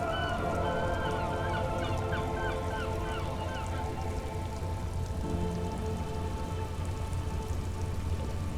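Steady rain falls in the Disco Elysium game world, a soft continuous patter with tonal background sounds layered over it, and no voices.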